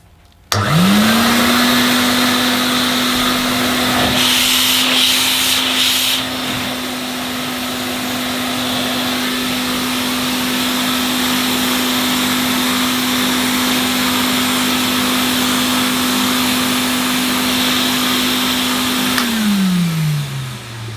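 A vintage Hoover Constellation vacuum cleaner switches on and runs with a loud, steady whine and airy roar for about eighteen seconds, then winds down, heard close up and alone.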